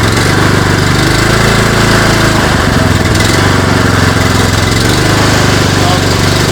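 A machine's engine runs loud and steady, its low rumble shifting and rising as the throttle opens around the midpoint, with a continuous mower-like drone throughout.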